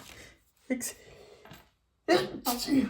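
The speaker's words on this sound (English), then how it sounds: "I have to sneeze" A person lets out a quick sneeze with a sharp breathy burst, followed by a second noisy exhalation, close to the listener.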